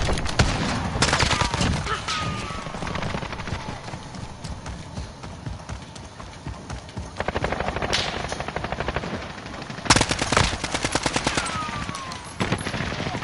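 Sentry gun in a PS4 shooter game firing rapid bursts of automatic gunfire, sharp repeated cracks in clusters separated by short pauses, loud and close, with faint game sounds between bursts.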